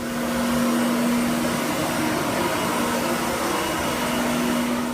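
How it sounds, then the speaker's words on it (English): Loud constant roar and whine of a floor auto-scrubber vacuuming up floor stripping residue, holding steady throughout with a fixed motor hum and no speech. "We're gonna take my lovely machine and suck everything up."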